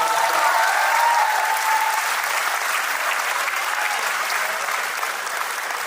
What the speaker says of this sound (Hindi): एक बार बहुत अच्छी तालियां किए कुशल के लिए